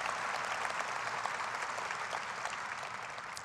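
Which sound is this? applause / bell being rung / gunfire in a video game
applause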